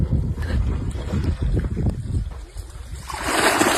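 Water pumped from a remote-controlled borewell motor pushes out of the outlet pipe in a steady, close broadband rush that swells louder near the end, mixed with some wind noise.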